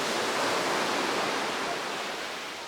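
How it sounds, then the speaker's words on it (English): Surf at Lamai Beach on Koh Samui, Thailand, in the monsoon season washes in as a steady, dense roar of broadband water noise, close and continuous, fading slightly toward the end with no talking. "The waves were coming right in over here."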